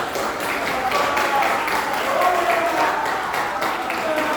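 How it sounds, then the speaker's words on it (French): A crowd claps steadily at a Congolese civil society gathering, forming a dense, continuous wash of applause throughout, with a voice speaking over it. "veuillez applaudir chaleureusement la présence de tout et chacun"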